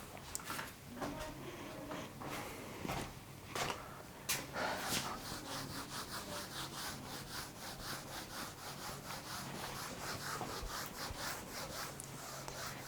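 An eraser or duster rubbing out writing on a board, with steady back-and-forth scrubbing strokes in a quick rhythm, close and moderately quiet, with no talking.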